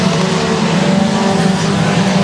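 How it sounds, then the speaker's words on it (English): Four-cylinder race cars at Boothill Speedway, a dirt oval, roaring around in their main event, the engines a loud continuous buzzing drone with a dense, blended pack sound. "2 laps to go in your 4-cylinder main event."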